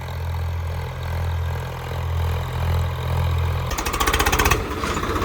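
A tractor engine runs in a farm field, a steady low drone that gives way to a harsher, rhythmic rattling pulse near the end, with no talking.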